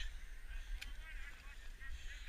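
Snow geese honking from a flock circling overhead, a steady chorus of distant, overlapping calls over low outdoor rumble, no clear talk.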